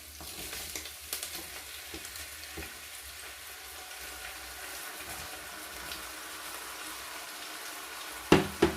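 Vegetables for spring rolls fry in a pan with a steady, bright sizzle that continues throughout, ending with two sharp clanks of a utensil against the pan. No one speaks.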